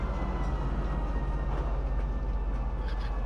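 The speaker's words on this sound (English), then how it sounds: "Arriving, Central Station. Please watch your step when disembarking the train." A train pulls into Central Station in the video game Star Citizen, a loud, steady rumbling hum of rolling railcars that fills the whole stretch with constant low drone and no pauses.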